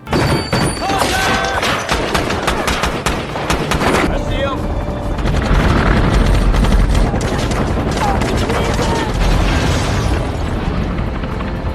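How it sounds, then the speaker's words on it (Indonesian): A film battle scene between soldiers and an armed gang fills with loud, continuous gunfire bursts and booming explosions, with a narrator talking over them. "Dan terjadilah kontak senjata antar pasukan letnan dengan para anak buah Sabal"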